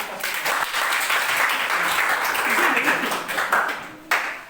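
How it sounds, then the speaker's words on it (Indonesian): A school class applauds together, dense continuous clapping that holds steady at a moderate level before tapering off near the end, with a few faint voices mixed in. "Tepuk tangan dulu Bu."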